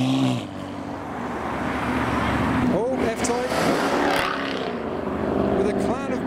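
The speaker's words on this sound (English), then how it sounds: "TVR Griffith, another 5-litre Rover V8." A TVR Griffith with a 5-litre Rover V8 drives past on a business-park roundabout, a rising and falling engine note heard under someone talking over the top.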